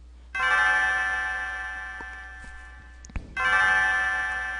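Two loud, bright strikes of the bell at the Millennial Fair in Chrono Trigger, each ringing out with a long shimmering decay, separated by a short gap with a soft click between.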